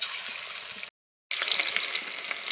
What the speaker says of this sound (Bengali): এরপর পকোড়াগুলো ভেজে নেব। পকোড়াগুলো ভেজে নেব এক এক করে।